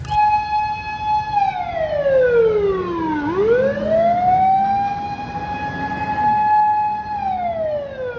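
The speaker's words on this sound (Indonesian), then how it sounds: "Wah, mobil pemadam teman-teman." A toy fire truck gives a wailing siren that sweeps down in pitch and then climbs back up in a slow, smooth arc, loud and close over a faint motor hum.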